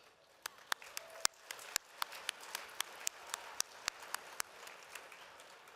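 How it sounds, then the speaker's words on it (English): A crowd at a SkillsUSA Michigan opening session claps, a soft wash of applause broken by sharp individual claps in an irregular patter, fairly distant and without voices. "Let's give a round of applause for all of you."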